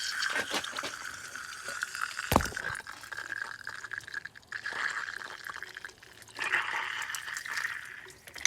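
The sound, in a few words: coolant spewing out of a car's cooling system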